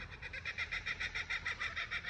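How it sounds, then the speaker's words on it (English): Kookaburras calling beside a limestone church in Loxton, South Australia: a faint, rapid, rhythmic cackling chorus pulsing steadily in the background, distant and alone. "And there's the kookaburras in the background."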